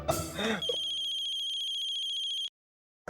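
A telephone rings with a steady electronic trill at close range, starting just after a brief muffled bump and running for about two seconds before it cuts off sharply, with no talking over it.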